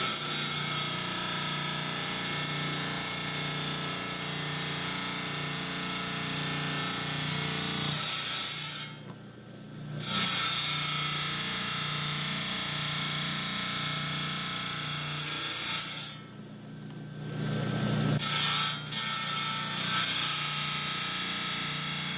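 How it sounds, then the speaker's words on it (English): A rock saw trims the excess off a porphyry cabochon with a steady grinding, rasping whine that drops out twice for brief pauses before the cutting resumes, with no voices over it. "we're back on the saw. I got the cab here. We're going to trim off the excess like I showed upstairs."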